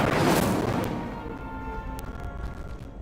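Incendio fire spell cast in the Hogwarts Legacy video game: a loud whooshing burst up front that decays over a couple of seconds, followed by faint crackling and a brief high ping.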